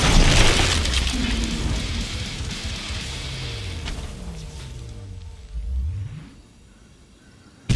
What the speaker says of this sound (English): A little explosion!